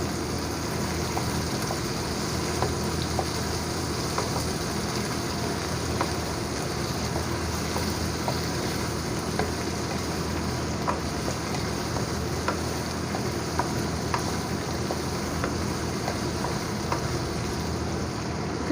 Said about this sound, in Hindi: इसी तरह हम भिंडियों को थोड़ी देर चम्मच चलाते रहेंगे जब तक ये ब्राउन ना हो जाए।